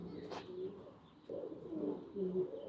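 Pigeons cooing in a rooftop loft, soft low repeated coos at moderate distance over faint background noise.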